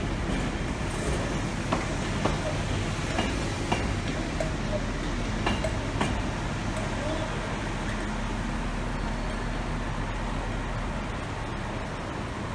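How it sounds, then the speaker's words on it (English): A train rumbles at Birmingham Snow Hill railway station, a continuous low roar with scattered clicks and rail clatter, and faint voices in the background. "In this picture is the station of Birmingham Snow Hill"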